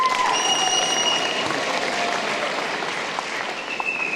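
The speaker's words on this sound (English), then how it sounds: "you can clap for him again." Audience at a high school senior convocation clapping for an honored student, a dense, steady round of applause lasting about four seconds that slowly tapers, with faint crowd murmur.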